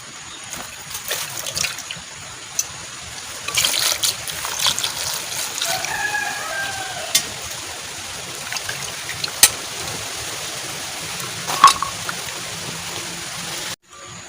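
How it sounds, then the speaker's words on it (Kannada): Six tomatoes are rinsed under running water for homemade tomato sauce, a steady broadband trickle and splash with scattered sharper splatters as the fruit is handled, continuous and close, with no talking. "ಈಗ ಅದನ್ನು ಚೆನ್ನಾಗಿ ನೀರಾಗಿ ತೊಳ್ಕೊಳ್ಳುವ"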